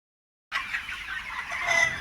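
Kaveri breed chickens clucking on a village poultry farm, a close, continuous run of clucking calls that starts abruptly after a brief silence and swells slightly toward the end.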